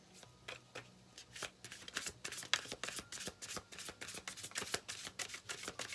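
A deck of tarot cards being shuffled, with rapid crisp riffling bursts repeating close to the microphone throughout.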